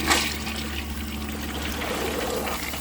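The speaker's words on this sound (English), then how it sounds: "I'm going to empty the rest of the water from the tank and see if that's enough to push it the rest of the way." Water from the tank is poured into a 1934 Bowers Pottery toilet bowl, a splashy gush at the start settling into a steady trickling flow with a low mechanical hum underneath.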